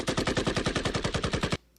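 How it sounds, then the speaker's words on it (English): A rapid, even burst of gunfire, about twenty evenly spaced shots in quick automatic succession, close and loud, stops suddenly into near silence. "and they start shooting at each other"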